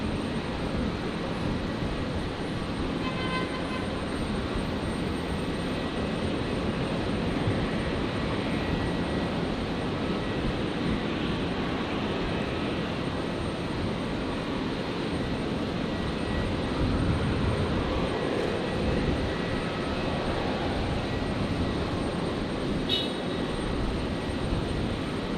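Airliner in Crown livery at Brisbane Airport, producing a steady, broad engine roar that holds at an even loudness for the whole stretch with no talking.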